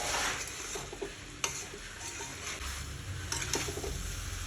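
Kanti chicken stir-fried over high heat in a pan, a steady close sizzle broken by scraping stir strokes and a few sharp clinks of the spatula, with no voices.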